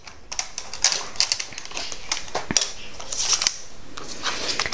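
Scissors snip through card while trimming off-cuts from a handmade card-in-a-box, giving a series of sharp, close crisp cuts and rustles with no speech.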